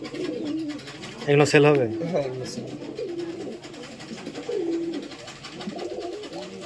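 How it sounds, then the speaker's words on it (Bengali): Nara pigeons cooing on a pigeon farm, soft repeated coos rising through the middle of the stretch while a person talks close by throughout. "নাড়া কবুতর।"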